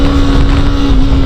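A Bajaj Pulsar RS200 motorcycle engine drones steadily and loudly under heavy rushing wind noise, close to the microphone, for a brief moment.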